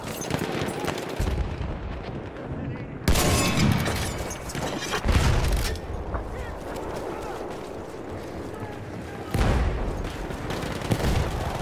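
Loud blasts and bursts of gunfire in Battlefield 1's Argonne Forest battle, with sharp explosive cracks around three, five and nine seconds standing out over continuous combat noise and distant shooting.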